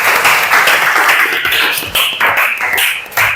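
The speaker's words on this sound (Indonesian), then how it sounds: "tepuk tangan untuk Yosi" Brief applause from a classroom audience of students, a few seconds of close, dense hand clapping with no speech over it.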